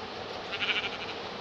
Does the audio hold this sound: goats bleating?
yes